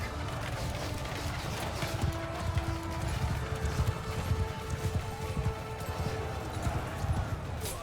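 Horses galloping in Mount & Blade II: Bannerlord during a battle, a steady clatter of hooves over a dense roar of combat noise, with faint tonal hums running underneath.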